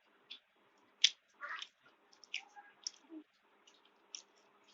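Soft, tender cooked meat chewed close to the mic, with sparse wet squishes and clicks of the mouth in a quiet room and no talking.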